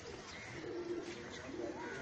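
Pigeons coo softly in a pigeon shop, a low continuous murmur of overlapping calls from several birds close by, with no talking.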